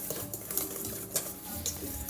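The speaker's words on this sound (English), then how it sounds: "We're just gonna sit here and we're gonna whisk this together." Flour, baking powder, cinnamon, salt and other dry ingredients are whisked together in a bowl, a soft, close scraping with a few brighter ticks of the whisk against the side.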